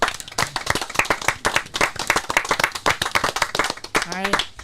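An audience claps for Christophe Izard, creator of the Nestor puppet, at a talk event: dense, steady applause running throughout, with a brief voice near the end.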